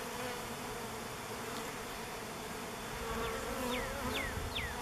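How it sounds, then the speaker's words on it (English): Bees buzzing around newly set nuc hives outdoors, a steady broadband hum with no one talking, while a few sharp chirps, probably birds, rise near the end. "I hear a bunch of bees somewhere."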